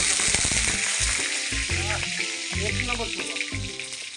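Panch phoron spices frying in hot oil for a potato and eggplant bharta with neem leaves, a loud, steady close sizzle running throughout, with clanking and stirring of utensils over it.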